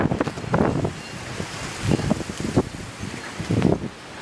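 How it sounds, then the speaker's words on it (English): Sudden violent windstorm battering the microphone near open water, with gusting roars surging in waves over a constant rush of blowing spray and surf. "The wind is just howling."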